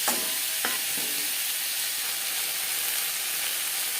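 Drumsticks, the tender moringa pods, fry in a pan for a bitter gourd curry with a steady, close hiss of sizzling oil, broken by a few brief clatters of stirring near the start.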